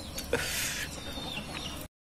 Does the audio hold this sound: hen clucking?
yes